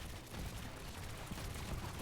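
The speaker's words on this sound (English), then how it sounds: "go for another strafing run with our guns" Helicopter guns strafing in the Trailmakers video game: a faint, steady stream of rapid gunfire crackling continuously in the distance, with no talking.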